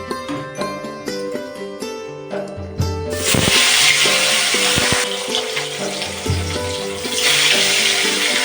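Pieces of rohu fish dropped into hot mustard oil in a kadai burst into a loud, steady sizzle and crackle, following a stretch of quieter tonal clinks and bubbling before the fish goes in.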